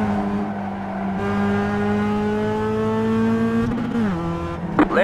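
A Mazda Cup race car in the iRacing game runs at high engine revs with a steady tone that climbs through the gears, then drops and shifts near the end, with no speech over it.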